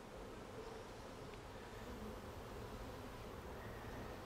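A soft, continuous buzzing drone of many honeybees swarming from an open-air nest into a hive hums quietly throughout, steady and low in level.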